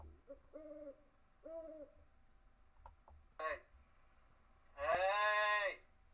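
Owl hooting played back as an online sound effect, a few separate hoots at moderate volume with quiet gaps between them, followed by a louder, broader burst near the end.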